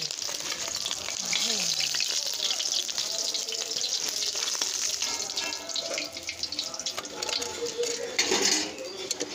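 An egg sizzles and fries in hot oil in a pan, a steady crackling hiss that stays loud and close throughout, with faint clinks and rustles.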